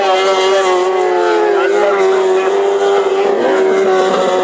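Grasstrack racing motorcycles roar loud and near at full throttle, their engines holding a steady high-pitched drone with slight pitch shifts as they hold speed around the track.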